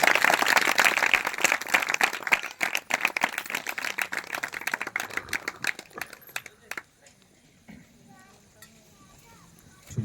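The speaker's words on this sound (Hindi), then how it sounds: "और भी तालियों के साथ उनका स्वागत करिए" Audience applause in a large gathering at a spiritual assembly, dense clapping filling the first six seconds, then thinning out and fading, leaving faint scattered claps and quiet room noise.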